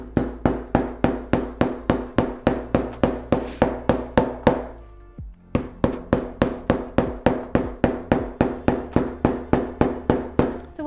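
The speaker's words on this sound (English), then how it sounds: "So what I'm doing now is just hammering down my threads." A hammer strikes leather to flatten stitching threads, sharp regular blows of about three per second, close and loud, with a brief pause midway before the steady rhythm resumes.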